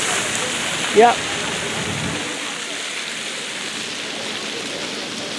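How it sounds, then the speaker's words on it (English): A water fountain in Bradford city centre near City Hall splashes steadily as a broad, continuous wash that runs the whole length, with a brief spoken word early on. "That's the water fountain,"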